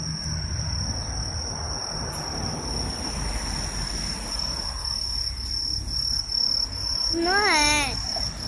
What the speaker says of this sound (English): This is scaring me, the cricket.